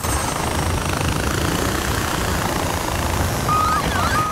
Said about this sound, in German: Man kennt vielleicht auch der doofe Helikopter nicht mehr.